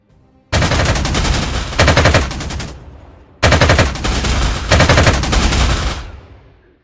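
Video game machine-gun return fire in Panzer Corps 2: two long, loud bursts of rapid rattling shots, each a few seconds long with a short gap between them, fading out with a tail of echo.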